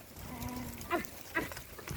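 Goats herded by pastoral herders give two short bleats about half a second apart, moderately close, over a steady outdoor background.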